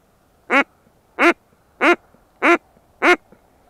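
A wild duck quacking from the reeds during a duck hunt, five loud, evenly spaced quacks about half a second apart against a quiet outdoor background.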